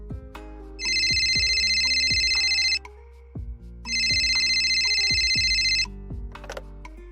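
A telephone rings on a radio quiz show as a caller comes in, two long electronic ringing bursts, loud and close, with a quieter gap between them over a low musical bed.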